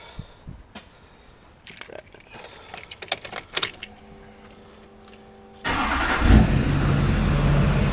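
Duramax diesel truck starts after keys jangle and handling noises, the engine cranking and catching near 5.7 seconds, then settling into a loud, steady diesel idle.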